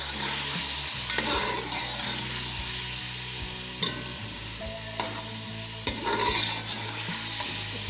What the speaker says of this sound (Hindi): अच्छी तरीके से फ्राई हो रहा है। अच्छी तरीके से देख लेना।